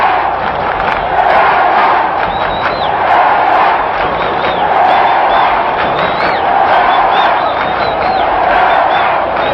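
A huge football stadium crowd at the Maracanã cheers and chants in a loud, continuous roar that swells and ebbs, with whistles and shouts rising above the mass of voices.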